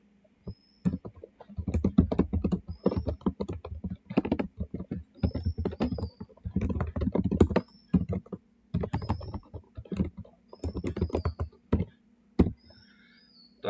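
Code typed on a computer keyboard, close and crisp, with bursts of rapid key clicks separated by short pauses and a few heavier spacebar or enter taps, no voices.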